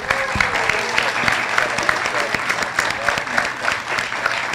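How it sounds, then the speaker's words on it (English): A round of applause for a panel at a community event about medical trust, steady clapping from a modest crowd with a few louder individual claps standing out, close and unbroken. "So I want another round of applause for our panel and for Kareem."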